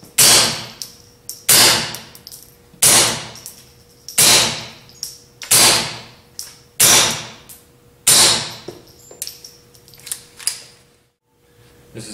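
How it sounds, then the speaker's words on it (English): Suppressed .22 pistol with Tactical Solutions pack light and the new stainless steel 22Sparrow suppressor, about ten sharp muted cracks in a fairly steady rhythm, each with a short decaying tail, close and loud over a faint hum. "This is the pack light with the new stainless steel 22Sparrow."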